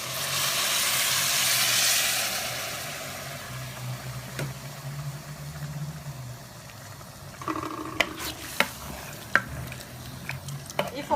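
Water poured into a hot pot of rice pilaf, about 1.5 litres for 1 kg of rice. A loud hissing rush of steam at first fades into a softer bubbling sizzle, followed by scraping stirs and several sharp utensil knocks against the pot.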